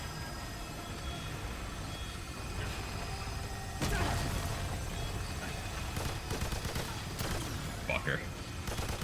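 Video game gunfire cracks over a dense, steady wash of game noise, with a loud burst followed by scattered sharp shots.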